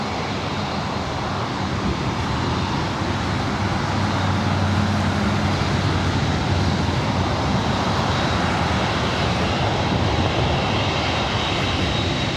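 An airliner taking off on runway 24 right at LAX, a loud continuous jet engine roar holding steady throughout with a faint low hum underneath, heard from a distance with no talk.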